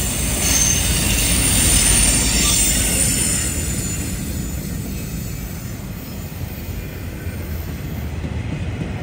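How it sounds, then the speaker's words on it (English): An SD40 Tier 4 rebuild locomotive leads an empty rail train westbound in East Kentucky, a loud, close rumble with continuous high wheel squeal over the rolling cars. "I don't have one of these SD-40 Tier 4 rebuilds on the channel yet. So here's one leading yet another empty rail train,"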